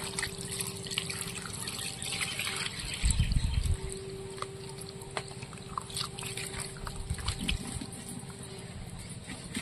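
Water poured over potatoes that have been washed several times, soaking them in a bowl; a brief splashing burst mid-way amid faint drips and trickling.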